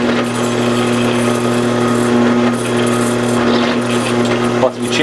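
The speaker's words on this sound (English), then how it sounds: "Now what I'm going to do is chamfer those holes." Power drill chamfering freshly drilled screw holes in custom knife scales for an Emerson Commander, a steady close motor whine with a constant pitch running throughout, briefly dipping near the end.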